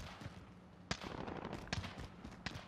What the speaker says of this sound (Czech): Střílí z letiště, je na letišti týpek.